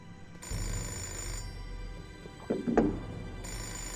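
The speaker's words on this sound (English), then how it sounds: "I just need to answer the telephone." A telephone rings inside the video game Fahrenheit (Indigo Prophecy) in a sleazy hotel setting, a steady electronic ringing over a low ambient hum, with a brief louder burst of game sound near the end and no talking.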